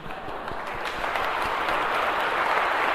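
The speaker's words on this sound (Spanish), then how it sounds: "Les quiero dar un aplauso a ustedes hoy" A church congregation breaks into applause, dense clapping from a large crowd that swells slightly and holds loud and steady for several seconds with no talk over it.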